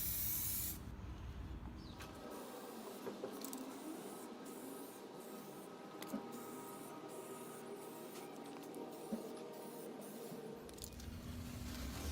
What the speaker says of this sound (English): when using the aerosol you apply 3 coats and just leave 30 minutes between coats